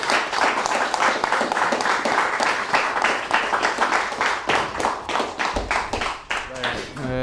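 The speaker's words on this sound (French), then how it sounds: "Sur ces belles paroles, je crois qu'on peut applaudir Robert." Audience applause for speaker Robert Clavijo after his talk on identity and the nation, many hands clapping loudly and steadily for several seconds before tapering off, with a voice rising over the last moments.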